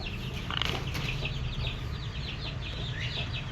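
Chickens cluck and murmur close by over a steady outdoor background, with a few short squawks early on.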